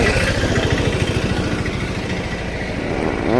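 A vehicle engine runs close by on a village road as it arrives, a loud, steady low putter with rapid pulsing that swells slightly toward the end, with no talk over it.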